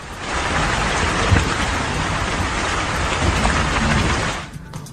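Heavy rain pours down in a dense, steady roar that fades out at the very end.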